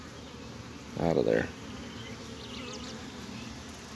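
A short burst of agitated honeybee buzzing in an opened queenless hive swells for about half a second over a steady low hum, with a voice speaking faintly afterward.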